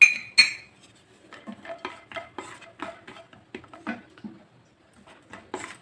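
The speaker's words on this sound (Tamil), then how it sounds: "முந்திரி நல்லா லேசாக வறுத்துக்கலாம்." Cashews roasting in ghee in a metal pan for wheat flour halwa: two sharp metallic clinks open, then a steady run of close scraping and stirring strokes, with no talk.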